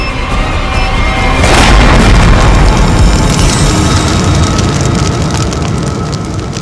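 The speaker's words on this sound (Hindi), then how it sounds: "डायनामाइट बम से अलग करेंगे तो बम फट जाएगा" A loud bomb blast from a crime drama booms out and rolls into a long, dense roar of rumbling debris and noise that fades only slightly over several seconds.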